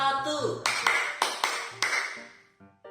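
A group claps a short rehearsed pattern during a classroom exercise in leading a discussion. A few sharp, spaced claps ring out over a voice with a tonal backing, ending in a quieter final pair.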